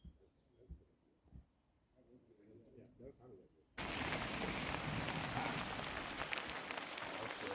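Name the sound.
rain falling on campsite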